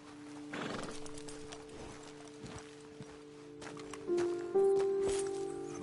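Horses in the video game Red Dead Redemption II clip-clop at a slow walk, hooves thudding steadily, with a whinny rising near the end over a faint droning background.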